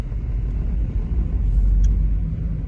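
Low, steady rumble of a vehicle driving away from a farm field, the engine and road noise close and continuous, swelling slightly toward the middle with a faint high click near the end.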